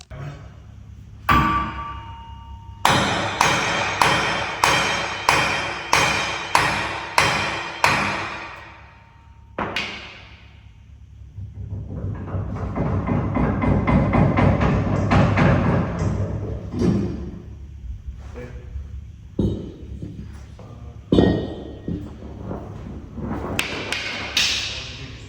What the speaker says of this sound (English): So me and Jim Bob were having to tap it with a hammer and pull it back and forth until they came free.